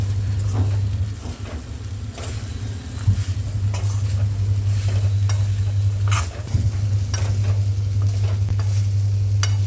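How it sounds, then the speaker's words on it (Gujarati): Okra (bhindi) sabzi being stirred in a pan on low heat, scattered spoon scrapes and clinks over a gentle sizzle and a constant low hum, close and steady with no voices. "લગભગ બરાબરથી મિક્સ કરી લઈશ"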